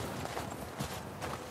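Horse hooves clip-clopping at a steady walk in The Last of Us Part 2, soft repeated thuds blended into a busy outdoor game ambience with no clear foreground voice.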